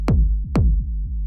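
Techno rumble kick run through an amp and then a low-pass filter: two deep, booming hits about half a second apart, each with a short click on top and a long, dark low tail that rolls on between them, alone with no talk.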